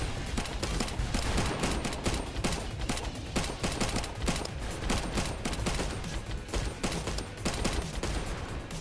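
Rapid gunfire rattles without pause in the video game Sentinel, a dense, continuous barrage of shots striking around the players at moderate loudness.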